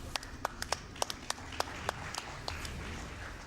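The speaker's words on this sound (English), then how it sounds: "We need some applause for that." Scattered handclaps from a small audience at the AGDQ 2018 speedrunning marathon during a Metroid Prime 3: Corruption run, sharp and irregular, fairly faint over a steady background hiss.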